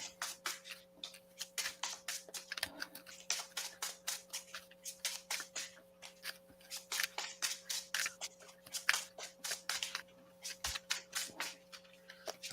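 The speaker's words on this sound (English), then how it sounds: "Shuffle those in there." Playing cards shuffled by hand at a tabletop board game session, a quiet run of quick riffling and flicking bursts repeating steadily throughout, close and dry with no talk.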